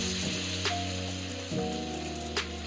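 Batter-coated ash gourd fritters for Bangladeshi-style bora sizzle steadily in hot oil, a continuous close crackle with small pops as pieces drop in.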